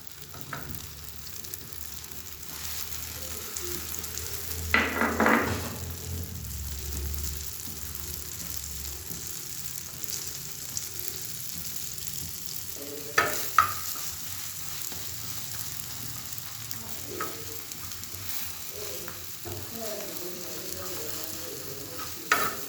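Burger mixture of eggs and vegetables fries in ghee on a flat griddle, a sustained close sizzle with intermittent scraping and spatula knocks, one louder burst near the start as it hits the hot surface; no talking.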